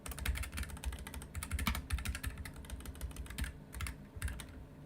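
Code being typed on a computer keyboard in a steady, fast run of close key clicks with short pauses between bursts, no voice over it.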